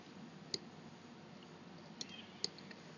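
Three sharp, quiet computer mouse clicks while drafting a construction detail in AutoCAD, evenly spread with about two seconds between the first two, alone over a faint steady room hiss.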